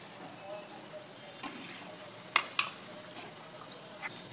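Colocasia leaf rolls (alu vadi) sizzle quietly in hot oil with a soft, steady hiss, broken by two sharp clinks of a utensil against the pan partway through.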